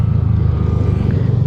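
Second-hand motorcycle engine running on a morning start, a loud low throbbing idle with a steady pulsing rhythm, close by with no talking.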